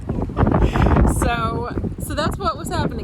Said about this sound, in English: It's so dang windy.